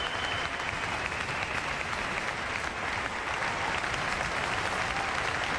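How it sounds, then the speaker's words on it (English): Steady applause from a large crowd at a Donald Trump speech, dense and continuous for several seconds, heard at a moderate distance with no pauses. "he's going to clap for the Hispanic people that voted for him"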